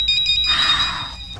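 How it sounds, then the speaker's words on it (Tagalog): A telephone rings indoors with a bright, electronic trill, repeated pulses followed by a sustained ringing tone, loud and near, with no talking. "ang telepono nagring naman"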